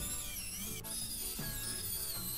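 Small electric screwdriver driving Phillips screws into a Game Boy back shell, a close whirring motor with two short pauses between screws.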